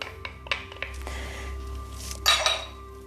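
Dry ingredients and the zest of two oranges are stirred together in a bowl for a vegan orange self-saucing pudding, giving soft scraping and light utensil clinks against the bowl, with a louder scrape-and-clatter burst near the end.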